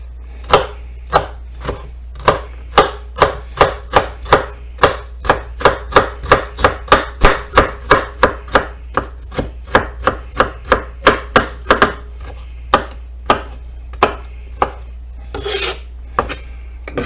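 A knife chops an onion on a board in quick, evenly spaced sharp knocks that speed up into a dense run, then slow to scattered cuts, close and clear with no talk.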